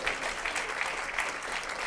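A workshop audience applauds its helpers with steady, even clapping from a modest crowd indoors, continuous for a couple of seconds at moderate volume.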